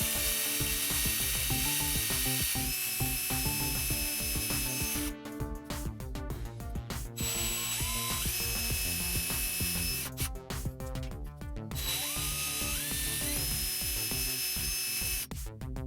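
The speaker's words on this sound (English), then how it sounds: "going to use a 1/8 inch drill bit to drill these 3 holes" Power drill boring three holes with a 1/8 inch bit after center punching, in a build of an Auduino granular synth enclosure; repeated bursts of whirring and ratcheting mechanical noise, each run starting slow then speeding up, close and loud.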